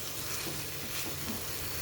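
Paneer masala simmering in a pan, giving a steady, soft sizzle and frying hiss that continues evenly throughout, with no voices.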